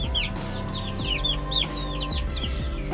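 Chickens cluck and chirp close by, with repeated short bright calls overlapping above a steady low background hum.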